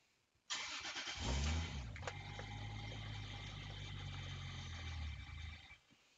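A Toyota Supra engine running an AEM EMS V2 cranks with a whirring starter, catches and runs roughly for a few seconds, then dies. Close and loud, outdoors at a garage opening, with no talking.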